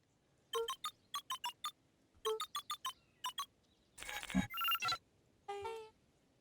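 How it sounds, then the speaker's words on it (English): Keypad tones from a phone booth in the video game Beacon Pines, a quick rhythmic run of short electronic beeps in clusters, then a burst of buzzy chimes and a rising tone as the code is accepted, clear and alone. "Luca cracked his knuckles and entered the letters into the keypad."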